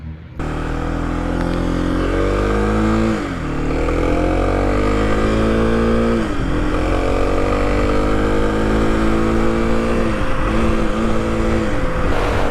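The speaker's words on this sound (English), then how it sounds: "on the road it rides pretty much like you'd expect a 300cc one-cylinder thumper to ride" Kawasaki KLX300, a 300cc single-cylinder motorcycle, ridden on a highway near Joshua Tree; a loud close engine drone rises through the gears with brief dips at each shift, plus steady wind and road rush.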